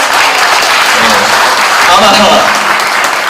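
A symposium audience gives a loud, steady round of applause for two honoured guests. The clapping stays close and continuous throughout, with a brief spoken word just audible underneath.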